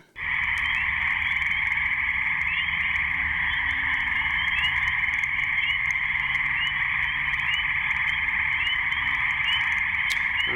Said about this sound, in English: you can hear the sound of all the frogs chirping and calling